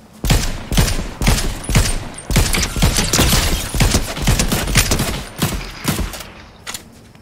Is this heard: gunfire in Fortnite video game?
yes